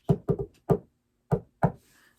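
Knuckles rap on wood in five close, hollow knocks: a quick cluster of three, then two more after a brief pause, each crisp and dry.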